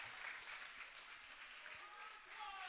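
Steady crowd applause from wrestling fans at a PCW Ultra independent match, a dense, continuous wash of clapping filling the whole moment without pause.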